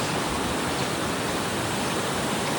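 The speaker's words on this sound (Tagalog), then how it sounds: "Tanaw na natin yung Mother Falls mga kaibigan." Mother Falls in Aurora pours in a steady, dense roar of falling water, loud and continuous with no breaks.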